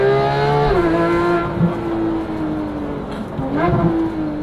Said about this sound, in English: I cannot get over how good this car sounds.